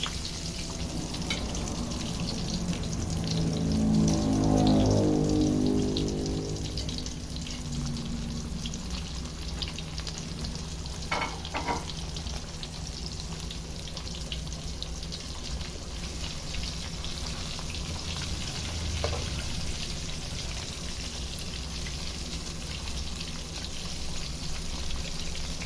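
A third batch of fish fillets for crunchy fried fish dropped into hot oil over medium heat, a soft burst of sizzling and bubbling that settles into a quieter, steady crackle, with occasional faint clinks.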